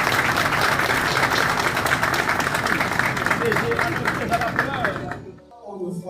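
A crowd at an official installation ceremony for a new customs director general applauds steadily, many hands clapping together in a dense wash, while a voice speaks over it before the clapping fades out.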